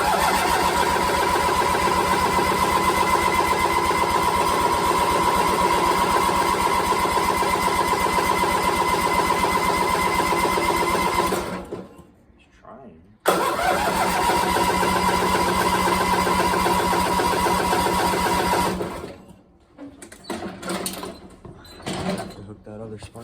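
Two-stroke engine on a Murray motorized bicycle running loud and steady with a buzzing mid-pitched drone, cutting out briefly, restarting and running on, then sputtering down to quieter idle noises and handling sounds.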